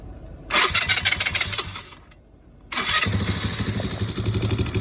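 A Chinese ATV engine, just repaired, fires up with a burst of revving, dies away briefly, then starts again and runs at a steady, close, rough idle.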